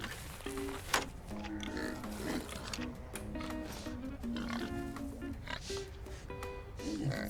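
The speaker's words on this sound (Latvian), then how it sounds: "Cūkai." Pig grunting in the video game DayZ, a run of short low grunts and snorts repeating through the clip over game ambience, with some speech-like voice sounds mixed in.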